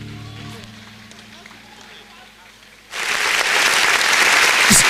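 An audience at a university freshers' orientation in Nigeria bursts into loud, sustained applause after a quieter stretch with a voice on a sound system, the clapping rising abruptly and continuing strongly.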